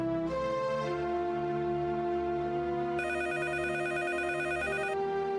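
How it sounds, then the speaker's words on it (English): A telephone rings in the video game Mizzurna Falls, sounding as a sustained, steady electronic ring with layered tones that carries on for several seconds. "Let me answer that phone for you."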